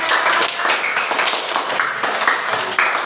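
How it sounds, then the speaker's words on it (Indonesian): Primary school classroom of children clapping for a classmate, a short, fairly close round of uneven, scattered hand claps. "tepuk tangan dulu dong buat Basita"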